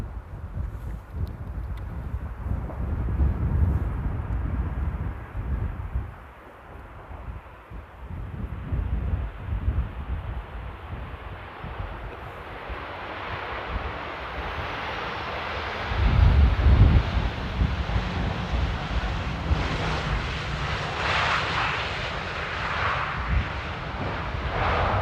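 An aircraft touches down at Amsterdam Airport amid gusty wind buffeting, a low rumble swelling and easing before a rising, hissing engine roar builds and carries on loudly toward the end.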